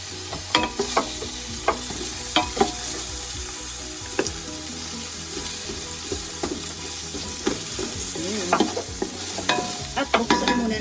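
Onion sizzles steadily in hot oil in a pan, with frequent scraping and clinking stirs of a utensil spread across the clip; no one speaks.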